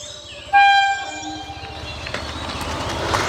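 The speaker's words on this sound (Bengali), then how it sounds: "এই কি ট্রেন আসছে রে?" A Vande Bharat express train on the Kamakhya to Howrah route sounds a loud, sustained horn as it arrives at a station, followed by a steady rumble of passing coaches with clattering wheels, close by and alone.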